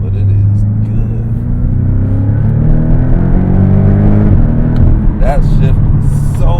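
Base-model Porsche 718 Cayman engine pulling hard as it accelerates around a block, revs climbing and then stepping down through a quick gear shift, loud and steady from inside the cabin with a voice talking over it.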